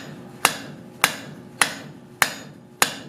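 Five evenly spaced hammer blows ring on an anvil while a flux spoon is forged flat into a disc, each strike sharp and close with a short metallic ring, about half a second apart.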